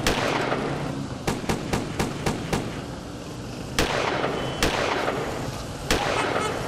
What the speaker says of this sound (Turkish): Buluşma sırasında silah sesleri duyuldu.